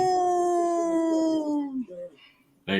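A man imitates a lone wolf with one long, loud, falling howl, then a short yelp before a burst of noise.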